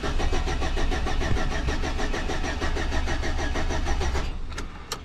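A 2006 Chevy Silverado engine cranks without starting, a steady rhythmic starter whir that runs loud and close for about four seconds before stopping abruptly, leaving a few faint clicks.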